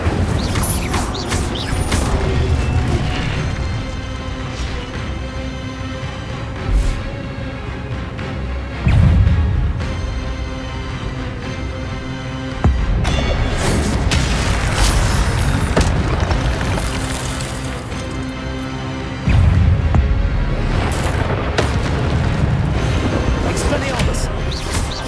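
Incendio fire-spell blasts in Hogwarts Legacy, several loud bursts spaced through a long combat stretch with other spells and crashes, under spoken spell names.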